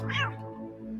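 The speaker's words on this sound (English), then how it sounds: "That was the cat attacking the chicken." A cat lets out a single strained, rising-then-falling meow near the start while attacking a chicken, over a steady low hum, then the sound trails off.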